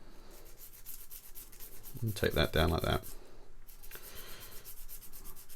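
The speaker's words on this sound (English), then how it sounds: "sanding sticks" Sanding sticks rub back and forth on a plastic part of a 1:35 Dragon Saladin British armoured car model, making quick, rhythmic scratchy strokes close up, with a brief spoken phrase in the middle.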